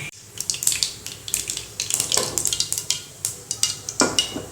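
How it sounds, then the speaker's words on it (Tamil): Mustard seeds and fenugreek splutter in hot oil for a sambar tempering, giving a dense run of sharp, rapid crackles and pops close up. "வெந்தயம் கடுகு பொரிஞ்சிருச்சு."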